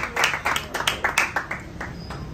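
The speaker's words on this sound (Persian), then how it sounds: "خانم سایه و آقای آریان رو تشویق کنید" Audience in a live Mafia party game clapping for players just eliminated, a burst of bright, sharp claps in uneven clusters that gradually thins and fades.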